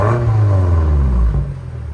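A 2020 BMW M5 with a 4.4-litre twin-turbo V8, resonator deleted and exhaust valves closed, revs in a deep, loud burble that falls away after about a second and a half, with no talking.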